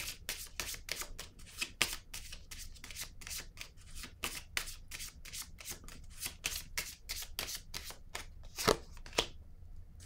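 Tarot cards are handled, shuffled and laid down in a rapid run of crisp, close slaps and riffles. A few sharper snaps near the end, then it quiets, with no talking.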